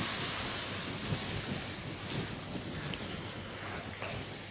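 A steady rush of 1.5 litres of water poured into a pot of onion soup, a dense continuous splashing roar held at even loudness throughout, close by, with no talking.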